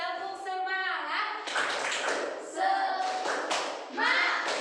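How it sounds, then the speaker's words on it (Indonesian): A class of schoolchildren performs the tepuk semangat clapping chant, rhythmic hand claps mixed with chanted voices, fairly close and lively. "Kita tepuk semangat dulu yuk."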